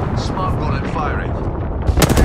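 Rapid gunfire in Apex Legends erupts at the end, a quick string of loud, close shots following a short stretch of dense, noisy game action.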